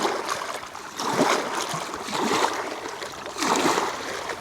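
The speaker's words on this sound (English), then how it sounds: "So let me go ahead and fill up this water here," Cold stream water pours and gurgles into a water bottle being filled outdoors near a Washington town, three swelling surges of splashing flow over a steady background of running stream, close and moderately loud.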